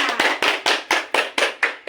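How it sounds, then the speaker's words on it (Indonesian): A group claps together in a steady rhythm at a PKK village community legal-awareness session, about eight crisp, evenly spaced claps, close and loud with no voices. "Tepuk tangan untuk semuanya."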